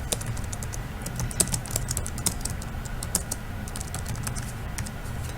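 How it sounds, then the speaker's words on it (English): Someone types on a Chromebook keyboard, rapid close clicking keystrokes with irregular rhythm and occasional louder taps, no speech. "start typing my book report"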